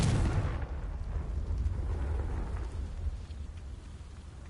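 A Confringo fire spell blast in Hogwarts Legacy, a sudden deep boom that rolls off into a rumbling tail fading over several seconds.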